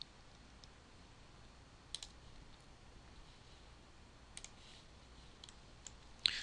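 Mouse clicks in CAD software, a couple of faint quick clicks spread through a quiet stretch, with one sharper click near the end.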